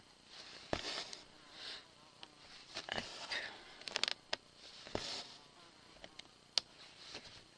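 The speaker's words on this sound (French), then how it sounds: "c'est le retour des mouches à fond" Houseflies buzzing close by, a continuous droning hum that swells and fades as the insects fly past, with scattered light taps and no talking.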